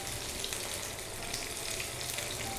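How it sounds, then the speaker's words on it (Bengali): Chicken shashlik pieces frying in a pan, a steady close sizzle and crackle of hot oil that stays even throughout with no voices. "এপিট ওপিট করে 4-5 মিনিট ভাজলেই হয়ে যাবে"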